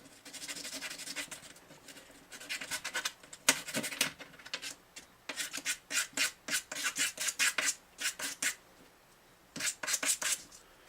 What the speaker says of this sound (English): Smooth those edges down a little bit.